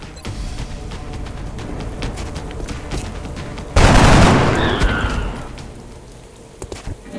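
Soldiers' gunfire in the XCOM Enemy Unknown video game: a loud, sudden blast erupts over a busy backdrop of scattered shots and rumble, then decays slowly into the background.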